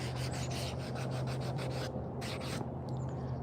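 Sandpaper rubs over a handmade wooden spoon in rapid back-and-forth strokes, a close, gritty scratching with a low hum beneath, the strokes thinning out and stopping briefly near the end.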